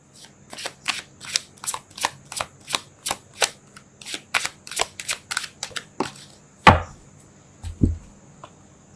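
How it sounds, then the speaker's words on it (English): Tarot cards are shuffled in a quick run of about fifteen crisp riffling snaps, then a sharper slap and a couple of soft thuds as a card is pulled and laid down. "I'm going to pull one more card"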